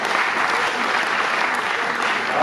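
Dense, even applause from an audience at a World Red Cross and Red Crescent Day ceremony, close and continuous without pause.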